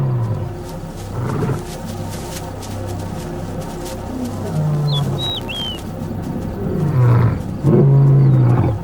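Large male lions in Ngorongoro roaring, deep repeated roars with grunting tails building in loudness, while birds call faintly in the background.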